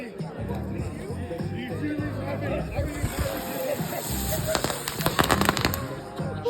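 Fireworks crackling and popping at a July 4th backyard party in Humboldt County, California, near and loud, with a dense burst of rapid firecracker-like bangs toward the end, over background chatter and voices.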